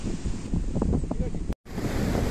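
The fast-flowing Baspa river rushes past near Chitkul village in Himachal Pradesh, a steady broadband roar of water with wind buffeting the microphone and a brief dropout.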